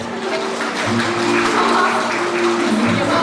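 Applause from a crowd at a wedding ceremony builds and swells, steady clapping filling the room while a voice carries over it.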